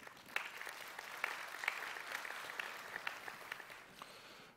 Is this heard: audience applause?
yes